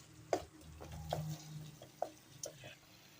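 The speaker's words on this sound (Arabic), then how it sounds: "وغادي نحرك مزيان" A spoon stirring a spiced coating mixture for crispy KFC-style fried chicken gives a few soft scrapes and clicks against the bowl, faint and close, with a quiet hum underneath.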